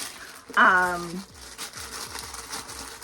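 Sewing pattern paper, labeled as a sweater sleeve piece, crinkles and rustles as it is handled, with a short louder crumple near the start followed by softer rustling.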